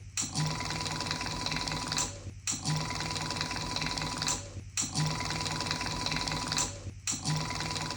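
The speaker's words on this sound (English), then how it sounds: "you just press your foot pedal to pump the graft out" A foot-pedal-driven pump on a hair graft punch device pushes fluid in a steady, close mechanical whir, repeating in regular cycles broken by short pauses about every two seconds.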